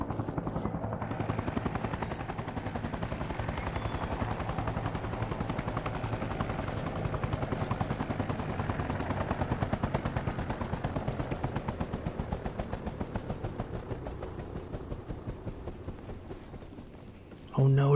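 A helicopter lands nearby in the video game Arma Reforger, its rotor thumping loud and rhythmic for the whole stretch, with bursts of gunfire mixed in and a sharp cut to a louder sound at the very end.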